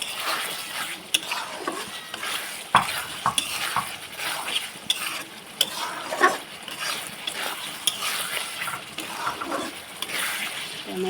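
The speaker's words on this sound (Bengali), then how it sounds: "দিয়ে এবার এটাকে একটু নেড়ে টেড়ে দিয়ে নামিয়ে দেবো।" Matar paneer curry with kasuri methi being stirred in a pan, a spoon scraping and clinking against the metal in irregular bursts over a soft background sizzle.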